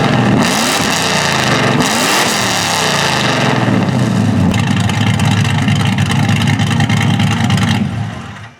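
A supercharged pickup truck engine runs loud and steady up close, its drone continuous with rising and falling revs, then cuts off abruptly at the end.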